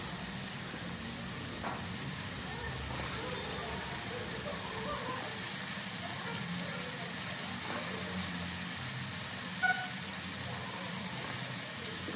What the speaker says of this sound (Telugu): కొద్దిగా ఫ్రై అయిన తర్వాత మనం ఆల్రెడీ కట్ చేసి పెట్టుకున్న ఆలుగడ్డ ముక్కలు వేసుకోవాలి